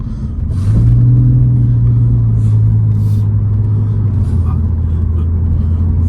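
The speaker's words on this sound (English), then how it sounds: "the way this flat six sounds" A Porsche 911's flat-six engine drones steadily while driving, a loud close rumble with a sustained low tone that eases slightly partway through, with no talking over it.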